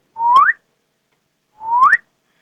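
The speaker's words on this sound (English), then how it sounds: "we're going to do our two whistles" A teacher gives two short rising whistles during an algebra lesson, each a clear, loud upward-sliding note, separated by a pause of about a second of silence.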